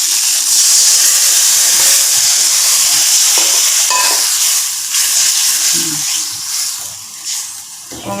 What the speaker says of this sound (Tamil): இப்போ நான் 2வது பாலை ஊற்றிடுறேன். அதில் நல்லா கொதிக்கும்.